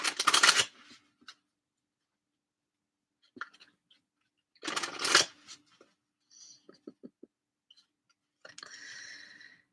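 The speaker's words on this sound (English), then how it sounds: "I'm gonna pull some cards from my Enchanted Map Oracle" Enchanted Map Oracle cards being shuffled up close in a quiet room, several short riffling bursts separated by pauses, with soft clicks and taps of the cards between them.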